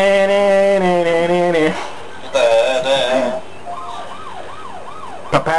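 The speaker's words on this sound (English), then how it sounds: "Did anyone notice the reference to also using the same siren music as if the jobbies came out?" Siren-style music from the video game Paper Mario: The Thousand-Year Door, a wavering alarm tone that sweeps up and down in loud repeating cycles, then fades into softer rising-and-falling wails near the end.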